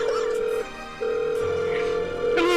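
Telephone line tones ahead of a call, a steady buzzing tone broken by short gaps, then a shift in pitch and a brief burst at the end, with faint voices underneath.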